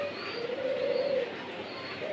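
A silver ash pigeon coos softly from close by in a low, warbling call, over a faint hum of background noise.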